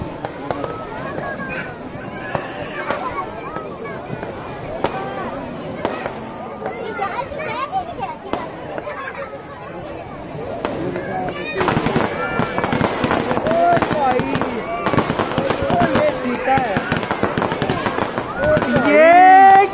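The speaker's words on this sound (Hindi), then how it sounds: "नीचे पानी, ऊपर पटाखे।" Fireworks burst over the water at a beach festival in Port Blair, a dense run of crackling pops and booms that grows busier and louder, with crowd voices and talk throughout.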